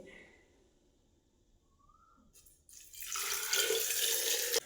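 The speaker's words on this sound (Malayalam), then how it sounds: "കുറച്ച് വെള്ളം ഒഴിക്കട്ടെ" Water poured from a vessel over kanthari chillies for pickling in salt: a quiet, near-silent start, then a loud, steady gushing splash over the last two seconds.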